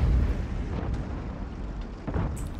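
A tank main gun fires a shell in World of Tanks, a heavy boom that opens loud and decays into a rumbling low roar, with a fainter second thud near the end.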